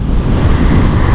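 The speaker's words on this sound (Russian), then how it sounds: "здесь просто задувается страшной силой" Strong wind buffets the microphone while cycling across an open field near a bay, a loud continuous roar with no voices.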